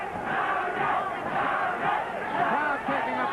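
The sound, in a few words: boxing crowd chanting in support of champion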